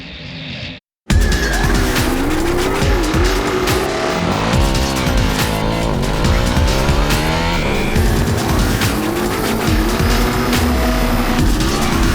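Several cars launch together down a runway in a drag-style race, loud engines roaring and tires squealing close by, with engine pitch sweeping up through gear changes after a brief silent gap at the start.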